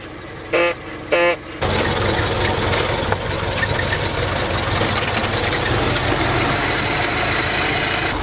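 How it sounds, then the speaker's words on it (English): A 1915 Ford Model T pickup truck running outdoors, two short horn blasts at the start, then a steady loud engine clatter and rumble continuing close by as the truck rolls along. "riding around in a 1915 Ford pickup truck"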